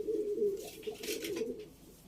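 Pet pigeons kept for about four months coo close by, a low throaty rolling call repeating in a few pulses, fairly clear with a faint rustle behind.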